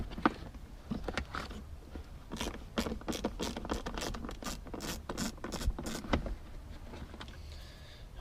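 Screws backed out of a tail light on a 1997 GMC Suburban, heard as a close series of scratchy ratcheting and grinding strokes over a steady low background hum, with no voices.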